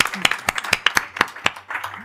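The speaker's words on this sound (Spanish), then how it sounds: "vamos a aplaudirle." Short burst of hand clapping from a small conference audience, distinct individual claps at an irregular, fairly quick rhythm, close and fairly loud.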